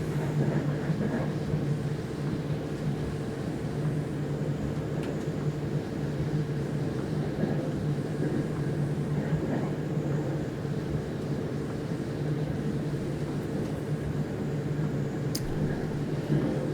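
DB BR 628 diesel multiple unit running in Train Sim World 3 on the Linke Rheinstrecke, a steady low engine drone with a constant hum and faint rattles, unbroken and even throughout.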